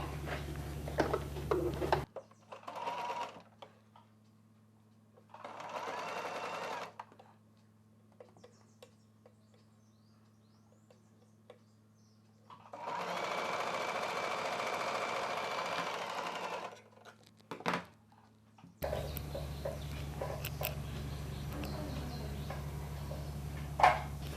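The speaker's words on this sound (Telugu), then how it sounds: "ఈ గ్యాప్ దగ్గర వరకు ఇలా ఫోల్డ్ చేసి కుట్టు వేసేసుకోవాలి" A sewing machine stitches a folded fabric hair scrunchie in several bursts of steady whirring, with short pauses between runs and a louder, longer run near the middle; no one speaks.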